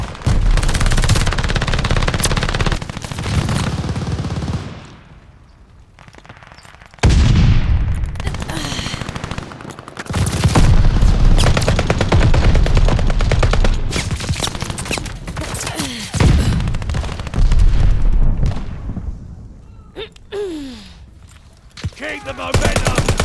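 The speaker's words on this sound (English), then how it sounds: "Hard point's under fire." Sustained heavy gunfire around a contested hard point in a video game, with dense overlapping bursts and blasts, near and loud, mostly continuous with brief lulls, under speech.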